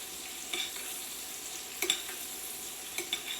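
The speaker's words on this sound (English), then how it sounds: "It'll foam, and what I do is I remove the foam so that I can see what color the butter is getting" Butter foams and browns in a pan on the stove, giving a soft, steady sizzle with a few brief stirring scrapes at a low level.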